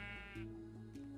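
Sheep bleating in a blocky sandbox video game, several drawn-out wavering bleats close and clear over a steady low game hum.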